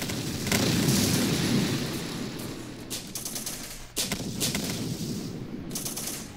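RPG fire in the video game Syrian Warfare, with a loud blast and roar at the start, then rumbling combat noise, sharp cracks and a second heavy shot near the middle, trailing into continuous battle din.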